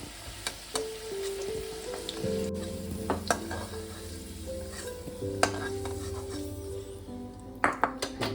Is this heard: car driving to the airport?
no